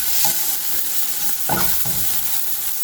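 Food frying in oil in a pan, browning on the sides for an Easter lunch, with a steady close sizzle and occasional stirring scrapes, no talking.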